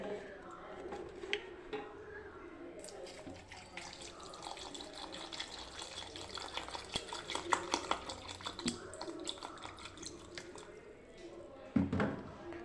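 Water running and splashing into a vessel for lemonade, with faint clinks of kitchenware and a louder knock near the end.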